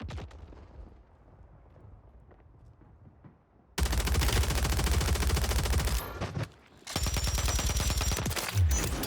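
Gunfire in the video game Warzone erupts in loud, close bursts of rapid automatic shots, cut by a brief pause, after a quieter stretch of faint game ambience at the start.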